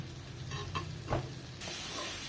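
Boiled soybean chunks sizzle while being stirred in a hot pan, a close, fairly quiet frying hiss broken by brief scraping stirs.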